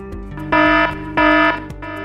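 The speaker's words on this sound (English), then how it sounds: "If you hear the alarm sound, report to your contact person and keep calm." Fire alarm at a Heineken brewery in Vietnam, sounding as a loud steady electronic tone that swells in two sustained blasts over a continuous lower alarm drone.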